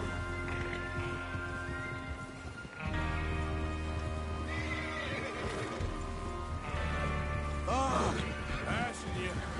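Horses whinny and hooves clatter in Red Dead Redemption 2, amid a busy, layered soundscape with music-like tones and speech, several loud neighs standing out toward the end.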